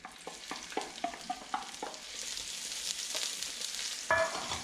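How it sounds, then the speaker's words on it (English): Onions with ginger dropped into hot oil in a pan while cooking freshly caught squid, a series of quick close clacks and stirs giving way to a steady, broad sizzle, no voices. "So I'm going to go in with the onions."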